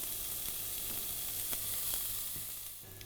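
Cottage pie ingredients browning in a hot pan give a steady, close sizzle with faint spitting crackles throughout, easing slightly toward the end.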